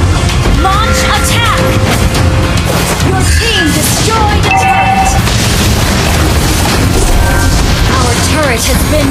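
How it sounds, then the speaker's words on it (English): A turret blows up in the mobile game Mobile Legends amid a dense, loud barrage of booming explosions and battle effects, with game voice lines over the din. "Your team destroyed the turret."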